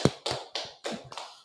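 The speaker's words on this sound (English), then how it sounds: "Let's clap it up." An audience at a religious class in Fayetteville, North Carolina claps in unison, giving five or six slow, steady, sharp claps close to the microphone with no talking.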